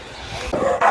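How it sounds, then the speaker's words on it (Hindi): A dog gives two or three sharp, close barks in quick succession, loud and abrupt against a low background rumble. "आज आपका भाई जी फिर से खतरनाक कुत्ते के पास आ गया"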